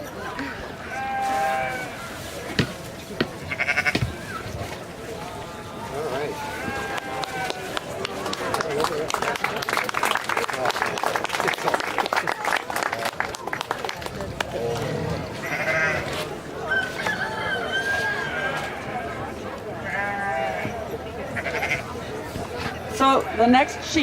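Sheep bleating during shearing, mixed with ongoing talk and shed activity; several wavering bleats come through at moderate distance, clustered early and again later, under voices and busy background noise.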